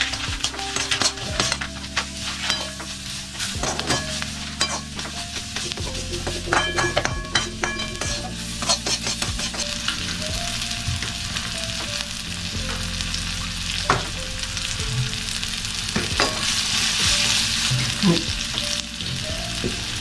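Chivda sizzles steadily in a pan while a spoon scrapes and stirs it, with frequent metallic clinks against the pan over a constant loud frying hiss.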